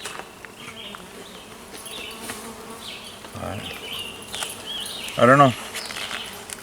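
Honeybees buzz steadily around a Kenyan top bar hive during an open inspection, a soft continuous drone with one bee passing close and loud for a moment, while people talk briefly nearby.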